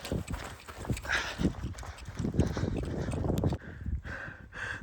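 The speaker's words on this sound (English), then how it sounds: "the horses are getting scared off" Horses moving outdoors on a farm as a storm rolls in, with irregular hoof clops and thuds over gusty wind, fairly close and uneven in rhythm.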